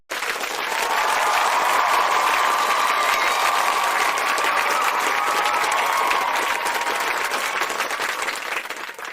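A large indoor audience at an Indian RCM business gathering claps loudly and evenly, the applause swelling in and holding steady for several seconds before tapering off slightly.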